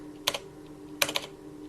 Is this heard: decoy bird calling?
no